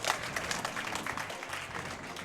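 An audience at a Crash Team Racing speedrun marathon event claps, a steady, moderately distant patter of applause filling the whole moment.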